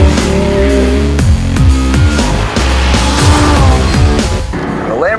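Loud Lamborghini Gallardo LP 550 with a V10 and six-speed gearbox on a racetrack. The engine revs climb and drop in repeated stepped sweeps through the gears, with a brief tyre squeal near the end.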